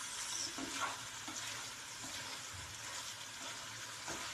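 Onion and egg sizzle steadily in a frying pan, a continuous hiss with faint stirring clicks, close and moderately quiet, with no voices.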